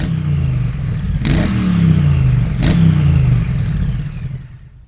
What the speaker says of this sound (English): Today I'm riding a motorcycle that's not exciting, it's not exotic